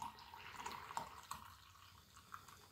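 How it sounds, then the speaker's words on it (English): Water poured into a cup holding a Danish 24-hour ration meal, a faint, close trickle with small splashing lasting a couple of seconds. "Now it says to add 200 mils of water"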